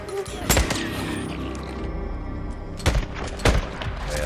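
Gunfire in the zombie survival video game Days Gone: a few loud, sharp shots burst out over a dense, steady bed of game noise, spaced irregularly near the start and again toward the end.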